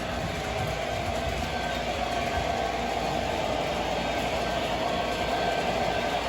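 A 1943 Spirit of Union Pacific model train runs steadily and loudly close by, a continuous rolling rumble with a broad hiss and no talking.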